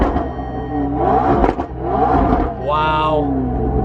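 A car engine revs hard and fast in loud, rising bursts with a whirring, rumbling tone, close by, as excited voices shout over it.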